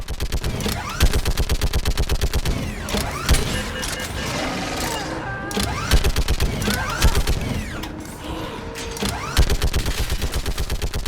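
Rapid mounted-gun fire in Mass Effect 3 Legendary Edition as Reapers and Cerberus attack, with dense bursts of rhythmic shots and occasional booms, loud and nearly continuous, and brief voices in the mix.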